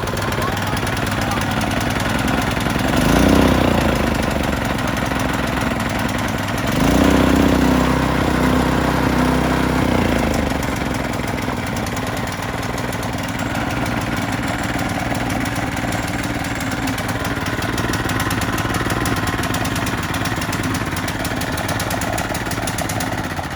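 A rebuilt 270cc go-kart engine runs after a pull-cord start, giving a loud, steady, rough idle with a couple of brief louder surges early on while people talk over it.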